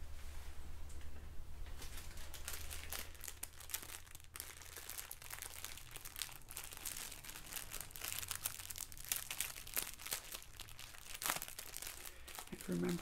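Crinkly plastic packaging around bow ties handled close up in a bow tie shop setting, a quiet run of crisp crackles and rustles in irregular bursts, with soft speech-like sounds in the background.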